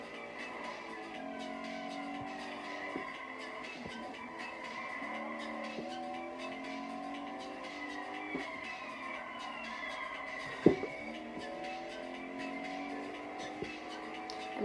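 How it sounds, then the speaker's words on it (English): A car drifting in a racing video game played with a Thrustmaster steering wheel and pedals, sustained tire squeals sliding in pitch over a steady engine whine, with a few sharp knocks. "I'm drifting"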